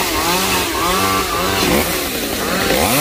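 A loud chainsaw revs and bogs as it cuts through a plum tree, its engine pitch rising and falling continuously, close by with no talking.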